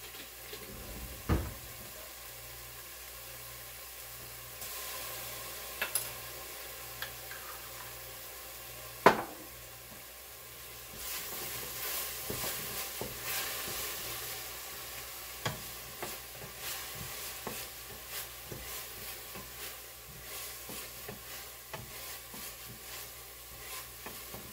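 Minced garlic sizzles quietly in a pan, a soft continuous fry with scattered stirring clicks and taps, close but low in level.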